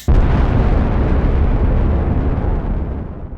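A loud, sustained explosion sound effect booms right away and rumbles on for a few seconds with deep low energy before slowly fading, heard alone without talk.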